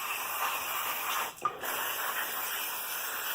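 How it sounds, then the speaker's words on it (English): Cleaner sprays in a continuous hiss into the intake of a BMW 335i/535i engine, steady and close, broken by a brief pause partway through. "With this spray."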